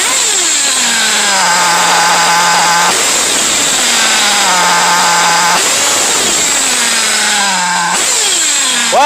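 A modded RCR .32 nitro engine in a Kyosho MP9 RC buggy idles with a loud, steady buzzing drone, its pitch dipping and recovering in regular cycles every few seconds.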